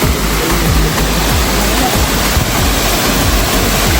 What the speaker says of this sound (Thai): เรามาถึงข้างหน้าน้ำตกแล้วนะครับ